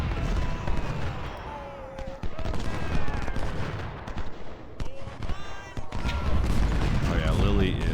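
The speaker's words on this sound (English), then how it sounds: "Keep those guns hot and firing" Civil War cannon fire in the Ultimate General strategy game, a dense run of booming artillery shots and rattling volleys layered together, with someone talking over the battle noise throughout.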